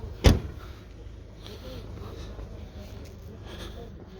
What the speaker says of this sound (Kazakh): Центр замок пульту менен экен